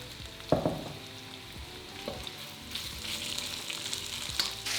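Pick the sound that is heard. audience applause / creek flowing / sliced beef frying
sliced beef frying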